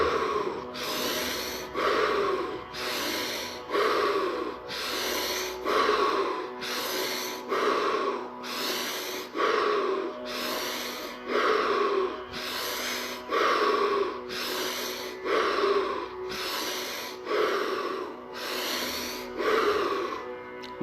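Rapid, rhythmic breathwork breaths repeat about every 1.2 seconds, each a sharp, close, airy inhale-exhale through the nose and mouth, with no talking.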